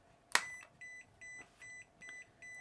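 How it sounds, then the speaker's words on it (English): A green-beam laser level set on a surface gives a loud startup click, then sounds a steady series of short electronic beeps in a regular on-off rhythm because it is not level. "it's making a beeping noise, and that's just letting you know that it's not level"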